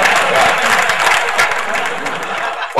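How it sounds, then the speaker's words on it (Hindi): An audience applauds a poet's recited poem, thick sustained clapping with faint crowd murmur, loud and steady before tapering at the end. "अभी तक की जो तालियां थी ये मेरी कविता पर"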